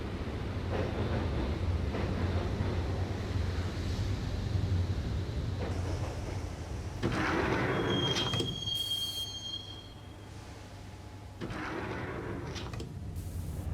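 Rumbling train ride ambience from the video game Max Payne: a steady low rail drone with metallic wheel squeals and clanks, surging and easing over the stretch, with no voices.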